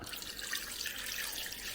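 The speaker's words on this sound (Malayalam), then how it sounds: "ഇനി നമുക്ക് ഇതിനകത്തേക്ക് ഒഴിക്കേണ്ടത് ഒരു അര ഗ്ലാസ് വെള്ളമാണ്" Water poured into blended ginger and lemon in a jar for juice, a short, soft, steady splashing trickle, close and quiet with no talk.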